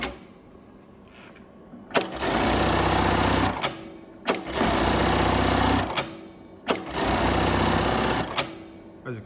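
A JACK JK-T1900 GSK-D electronic lockstitch industrial bar tacker sewing machine runs three loud, rapid stitching cycles of about two seconds each, with brief mechanical clunks and short pauses between them.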